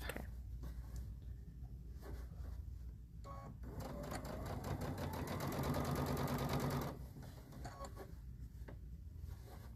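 A sewing machine running a steady rapid stitch while attaching a quilt-as-you-go panel to a hanging towel, with quiet handling noises before and after the run.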